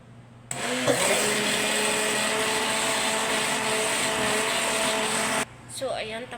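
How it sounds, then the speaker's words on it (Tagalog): Blender running at full power for about five seconds as it blends a breakfast mixture, a loud continuous whirring that starts and stops abruptly. "ilagay natin to sa blender at saka i-blend natin siya"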